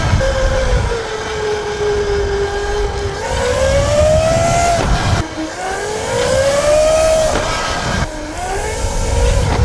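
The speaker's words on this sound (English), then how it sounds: "We just had a truck turn in behind us." Engine sound of a truck turning in close behind pit bike riders, a steady rumble rising and falling in pitch across several sweeps as it revs and maneuvers, loud and continuous with no talking.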